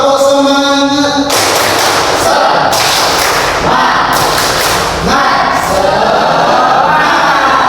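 A classroom of students doing a rhythmic 'tepuk semangat' group clap with their teacher, loud dense bursts of clapping and thumps in patterned beats, close, with voices chanting along.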